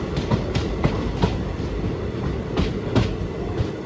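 A train pulling into Shivamogga Town railway station after the run from Talguppa, wheels clattering over rail joints in a steady rhythmic clickety-clack, loud and close.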